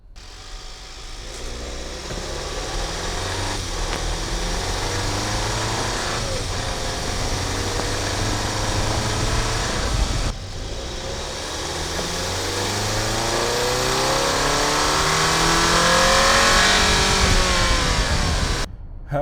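A car drives along the road with its engine and fairly quiet exhaust rising and falling through several gear changes, a steady close mechanical drone that builds in pitch and loudness toward the end, with no talking.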